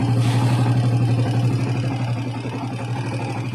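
A noisy TMX155 motorcycle engine runs steadily up close, giving a loud, continuous mechanical drone with a fast rhythmic rattle throughout.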